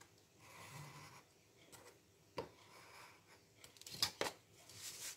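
Leftover paper being cut into a square with a precision knife, heard as faint, close scraping and rubbing strokes, a few sharp snips and taps near the end, and no speech.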